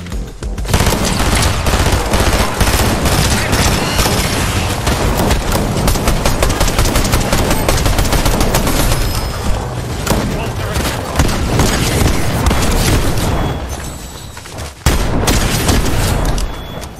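Dense video game gunfire from snipers and other weapons, rapid continuous shots and booms that are loud and close, filling the whole stretch with only a brief break near the end, and a player talking over it.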